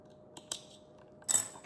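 Scissors snipping leather stitching thread, a few faint close clicks followed by one sharper cut in a quiet room.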